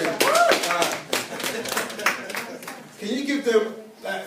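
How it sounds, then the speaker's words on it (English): An audience at a seminar claps for the guests, with scattered, uneven clapping mixed with voices and talk. "Can we give them a massive round of applause, please?"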